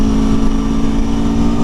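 An Aprilia Tuono 2021 motorcycle engine runs at speed with a loud, steady droning hum and constant wind rush, unbroken for the whole short stretch.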